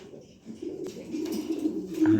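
A pair of Sirazi pigeons, the red one a male, coo softly nearby in short, throaty rising coos that grow fuller toward the end.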